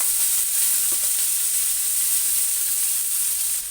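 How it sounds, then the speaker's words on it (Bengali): Hot oil sizzles in a wok, ready for sliced bitter gourd, with a steady, loud, even hiss throughout and almost no other sound. "কড়াইতে এখন তেল দিয়ে দিয়েছি, গরম হয়ে গেছে। এবার করবো উচ্ছে ভাজা।"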